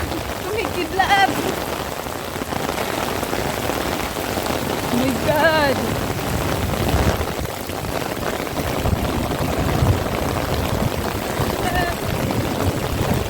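Heavy rain pours down hard on surfaces during a lightning storm, a constant loud hiss and patter, while a voice briefly exclaims over it.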